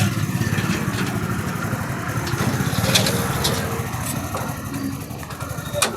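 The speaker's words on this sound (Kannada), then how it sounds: "ನೋಡಿ, ಮುಂದೆ ಬರ್ತದೆ ಗಾಡಿ" A motorized iron trolley cart's small engine runs steadily and close by as the vehicle drives forward and then reverses, a rough mid-pitched putter with a few clanks and rattles over it.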